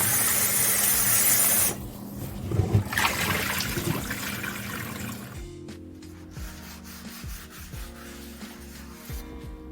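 A kitchen tap gushes water as a raw ham is washed, a steady close hiss for the first couple of seconds, then wet rubbing and handling noises as the meat is scrubbed and moved.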